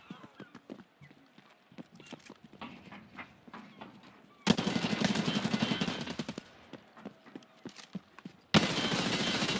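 Gunfire in the shooter game Escape from Tarkov Arena, sparse sharp shots at first, then dense bursts of rapid automatic fire that cut in abruptly and loudly, separated by a short lull.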